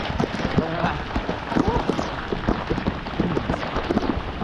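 Heavy rain pours steadily on surfaces in the Baseco port area of Manila, a dense, constant hiss, with voices talking nearby throughout.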